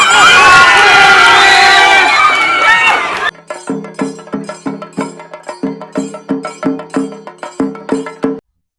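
Crowd noise at an Onam tug of war celebration, a loud dense roar for about three seconds before giving way to a steady rhythmic drumming pattern, likely chenda, repeating to the end.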